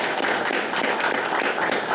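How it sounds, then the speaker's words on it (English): Dense, steady applause from a medical conference audience, a continuous wash of many hands clapping at even loudness with no talking. "So we give her a warm round of applause for her service."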